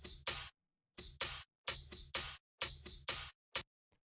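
Soloed percussion fills of hi-hats, a ride shaker and an open hat, played as short, bright, crisp hits in clustered bursts with brief gaps between, ending on a few faint ticks.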